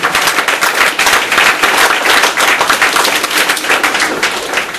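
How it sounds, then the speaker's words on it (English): An audience at a talk in a bookstore breaks into loud, close applause, a dense burst of sharp individual claps that stays strong for several seconds before easing slightly at the end. "Let's give her a round of applause real quick."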